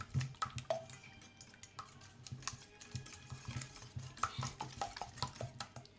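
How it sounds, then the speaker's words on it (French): A utensil stirs chocolate cake batter in a bowl, giving a quiet run of soft scraping and light clinking taps against the side, steady and close without any voices. "Et on va mélanger comme ça."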